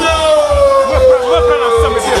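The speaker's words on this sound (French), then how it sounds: "On applaudit très fort." An audience at a live stage show cheers and whoops to welcome a child onstage, a steady crowd roar mixed with sustained musical tones and a pulsing low beat.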